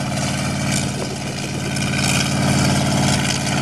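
Oil well pumps run along Texas Highway 87, a steady, loud mechanical engine drone with low throbbing that holds evenly throughout, with no voices.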